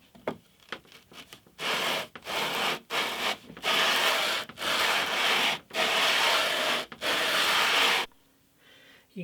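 A 40-foot radius sanding block scrubs across a wooden radius dish in repeated long strokes, each rasping pass broken by short pauses, loud and close with no talk.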